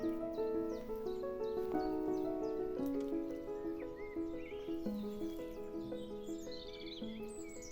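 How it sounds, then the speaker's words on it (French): Horse whinnies and neighs ring out in a botanical garden setting, mixed with bird chirps and tweets, repeated calls at moderate distance over a steady outdoor background. "J'ai l'impression que j'ai entendu des sabots."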